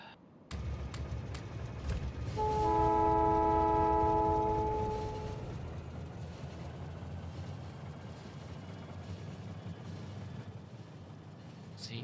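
A video-game train sounds a loud horn, its steady multi-tone chord held for about three seconds before fading into a continuous rolling rumble of train movement.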